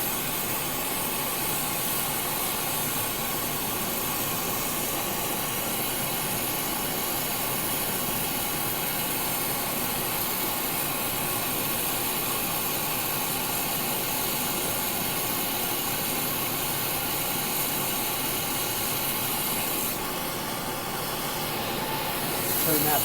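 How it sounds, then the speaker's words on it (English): A glassblowing torch flame roars as a steady, loud broadband hiss while glass is melted down to shape a spoon with a honeycomb bowl. The sound is unbroken and close, swelling slightly near the end. "Now I'm going to melt the whole thing down, this whole area right here."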